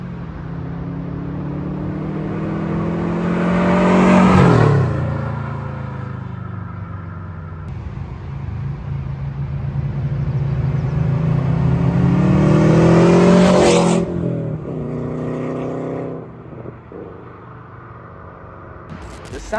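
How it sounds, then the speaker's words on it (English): A Subaru engine with unequal length headers revs hard twice, each rising to a loud, rumbling peak before falling back to a throaty idle. "Sound of a Subaru is just a very satisfying one. When you still have the unequal length headers on, they just sound so good."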